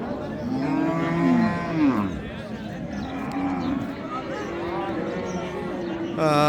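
Heifers and Sahiwal cows at the Raniganj cattle market in Dinajpur low repeatedly in long drawn moos close by, under steady talk from people nearby.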